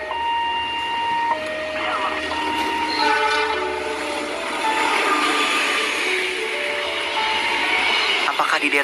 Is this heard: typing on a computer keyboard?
no